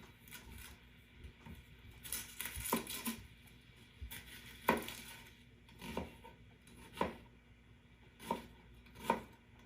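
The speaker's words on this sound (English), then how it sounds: "I'm going to go ahead and start cutting up my onion" Onion being chopped on a cutting board, a run of sharp knife strikes that come in quick clusters and then settle into a steady rhythm of single chops, close and fairly quiet, with no one talking.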